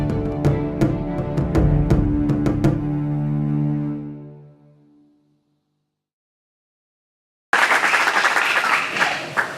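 A church congregation bursts into loud, dense applause after a sustained musical chord fades into silence; the clapping enters abruptly and fills the room.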